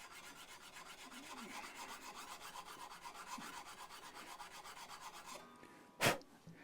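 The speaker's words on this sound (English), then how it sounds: "So the aim here is to sand this back to a nice smooth or low profile." Sandpaper rubs a part of a left-handed Fender USA Jazzmaster guitar smooth, a soft steady rhythmic rasping of back-and-forth strokes up close, ending with a brief sharp knock.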